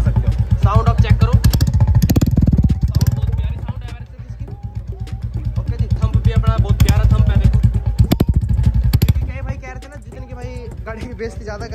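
A 2023 Royal Enfield Bullet 350 with a modified silencer thumps out a steady, deep exhaust beat that swells and fades a few times, heard under someone talking close by.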